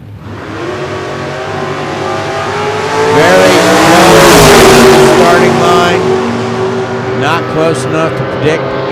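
Drag-racing Camaros, a 1970½ and a 1967 with a 434-cubic-inch engine, launch and roar down the strip; loud engine harmonics climb and swell to a peak mid-clip before fading, while an announcer talks over them.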